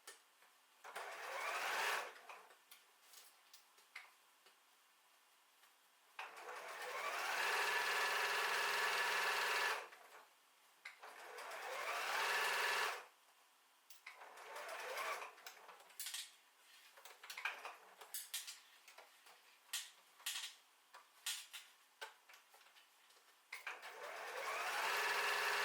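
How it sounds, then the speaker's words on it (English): A sewing machine stitches around the pocket fabric of a small zippered wristlet pouch in several separate bursts, each a steady whirring run with quiet pauses between, heard close and alone. "stitch around the pocket fabric apart from the bottom fold."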